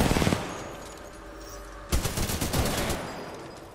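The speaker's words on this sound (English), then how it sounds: "Rapid fire SMG, and I'll take this too" Rapid-fire SMG bursts from Titanfall 2, a short volley at the start and a longer burst of rapid shots later, loud and close with a gap between.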